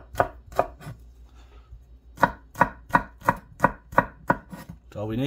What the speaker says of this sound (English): Just quick chop.